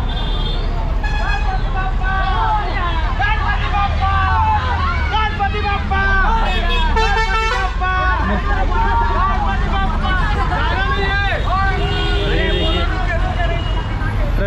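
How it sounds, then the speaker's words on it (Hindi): Dense festival traffic jam during Ganesh Puja crowds in Ambikapur, with a loud steady roar of engines, repeated horn honks and a constant hubbub of crowd voices, close and busy throughout, while someone talks over it. "ये देखिए बहुत ज्यादा ट्रैफिक है आज,"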